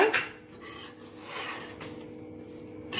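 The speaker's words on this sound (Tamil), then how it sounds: "உப்பை சேர்த்து நல்லா கிளறி விட்டுக்கோங்க" Salt being stirred into homemade spicy South Indian fish pickle in a pan, heard as steady scraping and rasping of a spoon against the pan, close and fairly quiet, with no voices.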